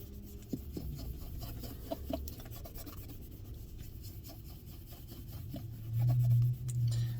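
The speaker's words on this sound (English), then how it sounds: "And all you gotta do, in circular motions, spread out the polish." A rag rubs boot polish onto a boot in circular motions, giving a soft, faint, repeated rasping scrub close up, with no talking.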